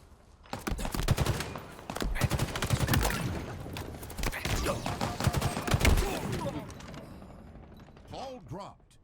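Rapid automatic gunfire and dense game combat effects from the video game Halo Infinite, loud and sustained through most of the stretch, with bursts overlapping, fading out near the end.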